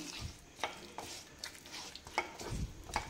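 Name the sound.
stirring khava (milk solids) mixture with sugar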